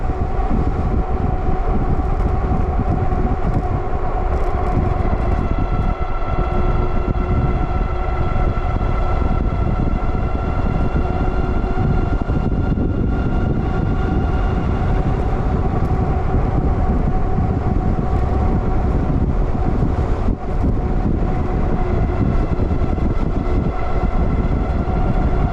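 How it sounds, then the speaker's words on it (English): Wind rushes past a rider on a Wallke H9 AWD ebike, a steady loud roar with a whining motor tone running underneath throughout. No one speaks. "Crazy wind now."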